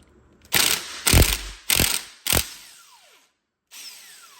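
A ratchet clicks off T55 flywheel bolts on a Porsche Cayman S 987 engine during teardown, four sharp loud bursts of ratcheting in quick succession, then a fainter final one after a pause.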